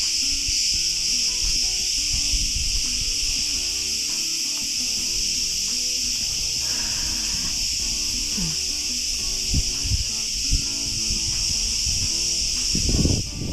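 Cicadas sing among olive trees in a dense, continuous high buzzing drone that fills the air, steady and loud, with faint rustling and small knocks beneath.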